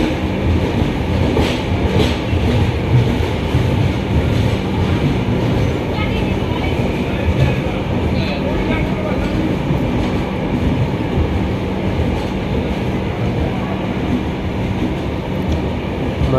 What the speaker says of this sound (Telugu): అహ్మదాబాద్ రైల్వే స్టేషన్ నుండి కూడా డిపార్ట్ అవుతున్నాం